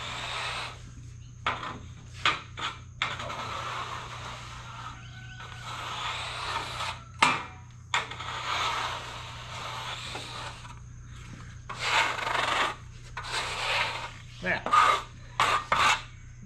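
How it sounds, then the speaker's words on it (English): Sawdust from freshly sawn wood being swept and gathered up by hand, heard as bursts of soft rasping and rubbing that come and go, close and moderately loud, over a steady low hum. "Now, let's gather up the sawdust."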